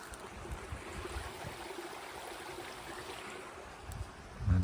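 Stream water flowing steadily near a roadside pull-in above a bend in the River Wharfe, a continuous broadband rush and trickle heard close and alone, with a brief louder bump at the very end.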